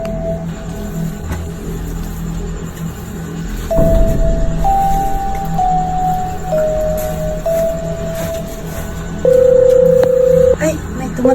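A phone rings with an incoming call, its steady electronic tones stepping through pitches in a repeating melody, loud and close over a constant background hum.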